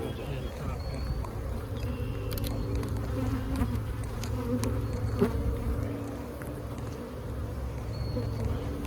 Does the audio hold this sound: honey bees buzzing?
yes